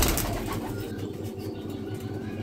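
A restless Kalanka pigeon, held in the hand and struggling, coos softly and flutters its wings as it is let go; the sound is close, brief and low-pitched, with no talking.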